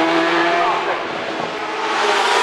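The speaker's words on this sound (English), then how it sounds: "Fern Down's Basil Pitt is at the wheel of one of the latest Ghoul V8 chassis, the GR55C" A Ghoul GR55C V8 hillclimb racing car drives at speed at the Shelsley Walsh hillclimb, a steady loud engine roar with shifting pitch throughout, heard from the trackside with some background chatter.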